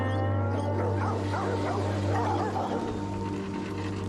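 Dogs seized by the Houston SPCA bark and yip in a continuous clamor over a steady low hum, the kennel noise filling the whole stretch.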